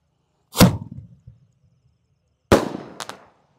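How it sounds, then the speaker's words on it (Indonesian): A Bima Sakti 3-inch Roman candle firework fires two sharp, loud launches about two seconds apart, the second followed quickly by a crackling burst, each blast trailing off into brief echoes. "Selanjutnya yang kita nyalakan di sini ada Bima Sakti Romain Candle ukuran 3 inci."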